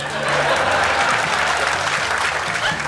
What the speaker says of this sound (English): Round of applause for Joel Ozborn.